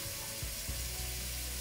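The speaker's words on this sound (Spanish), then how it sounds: "Y utilizaremos la batidora." A hand blender whirs through a Christmas recipe mixture with hot water added, a low steady motor hum under wet churning and a few soft bumps as the blade moves in the container.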